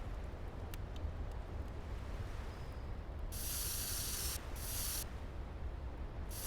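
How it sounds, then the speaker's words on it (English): Spray paint can spraying in a video game, two or three bright hissing bursts of roughly a second each, standing out over a steady low background rumble. "Yep, we used the spray paint."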